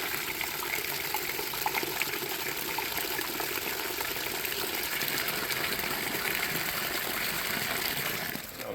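Water pours and splashes steadily from a wax separator melting beeswax, a continuous close gushing without talk.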